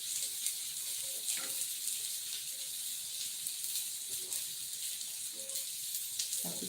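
Onion fries in a pan with a soft, steady sizzle and light crackle, fairly quiet and continuous, with faint clinks now and then and no talking.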